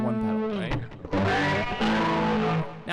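An electric guitar played through a CircuitPython-powered multi-effects pedal with distortion rings out in sustained, buzzy chords with a brief break in the middle, loud and close.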